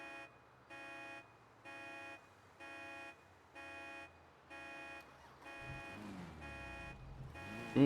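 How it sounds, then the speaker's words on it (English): Car alarm in the GTA NoPixel role-play game, steady repeating electronic honks in an even on-off rhythm, then a rising engine and traffic noise take over. "Ooh, this still has the alarm going."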